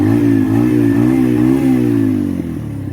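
A Keeway RKV 125 motorcycle engine idles steadily nearby, a loud, even buzzing hum with a faint mechanical tick that holds for about three seconds and then eases slightly.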